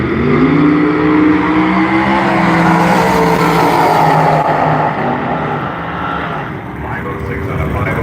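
A race car engine roars loudly nearby, revving with rising and falling pitch, and a voice talks over the noise.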